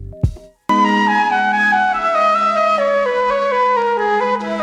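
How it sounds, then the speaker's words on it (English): A classical sample triggered from a pad on an MPC Live 2 sampler: a sustained, full orchestral-style passage with a steady bass and shifting harmonies, loud and close, following a brief soft noise at the start. "For this video I chose a classical sample"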